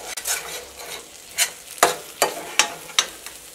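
Egg being stirred in hot oil in a pan while cooking chicken, giving a steady sizzle broken by several sharp scraping stir strokes at an even rhythm, close and fairly quiet, with no talk.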